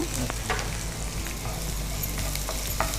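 Curry leaves and a small onion frying lightly in ghee, a soft steady sizzle with a few stirring scrapes, fairly quiet and close.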